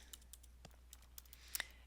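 Typing on a computer keyboard: a few sparse, light key clicks, irregular and soft, with a quicker double tap near the end, heard alone and close.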